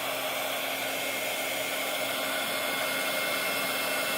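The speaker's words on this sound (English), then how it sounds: "now I'm going to turn on my heat tool." A heat tool blows a steady, loud rushing stream of hot air to melt crayons on canvas, continuous and close throughout with no talk.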